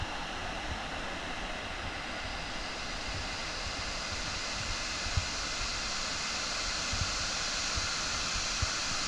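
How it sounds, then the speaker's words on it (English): Walupt Creek Falls, a steep mountain waterfall, gives off a steady, even rush of falling water that sounds somewhat distant and fairly quiet, with no voices over it. "What an incredible waterfall."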